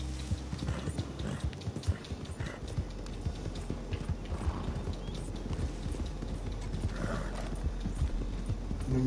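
Several horses gallop with a dense, continuous clatter of hooves that stays steady and fairly loud throughout.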